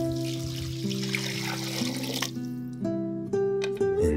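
Beef stock poured into a hot curry pan to deglaze it gives a steady liquid rush and sizzle, close and fairly loud, that thins out into trickles and clinks near the end.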